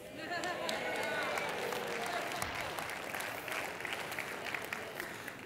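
A seminar audience claps at length, a broad crowd applause heard from some distance in a large room, steady and sustained with faint voices mixed in.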